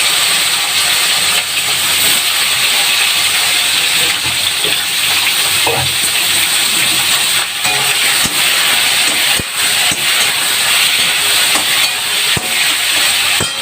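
Small eggplant pieces hit hot oil in a pan, setting off a loud, dense, steady hiss that holds level throughout, close up with no voices.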